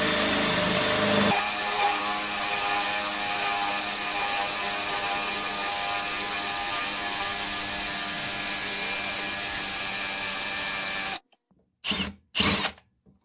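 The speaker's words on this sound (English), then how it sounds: "this is the Ryobi 1/2-inch drill bit" Ryobi 1/2-inch drill bit spinning in a power drill, a loud continuous whine and grinding for about eleven seconds that cuts off abruptly, followed by a few short bursts.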